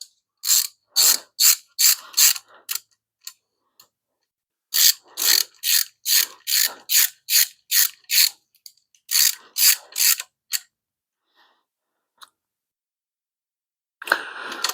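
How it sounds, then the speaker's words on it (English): A hand ratchet tightening bolts during a 5.7 Hemi engine build: close, crisp bursts of rapid clicking in several quick runs, separated by short pauses and near-silence, with a final burst at the end. "Let's get the ratchet full."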